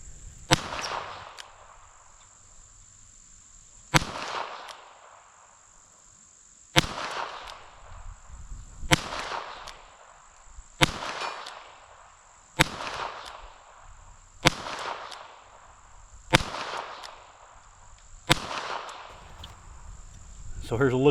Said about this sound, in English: I set me a target up at 10 yards and shot it with the 22 long rifle first.